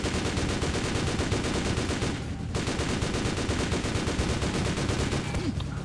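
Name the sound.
gunfire shooting at the player in the video game DRIV3R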